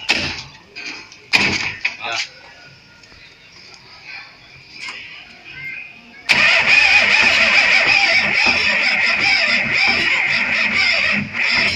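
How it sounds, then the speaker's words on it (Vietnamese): A tractor engine cranks in a few short bursts before catching and settling into a loud, steady running rumble, recorded close by. "mình chạy thử chiếc con máy cày cho mọi người xem nha"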